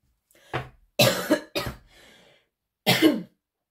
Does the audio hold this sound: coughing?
yes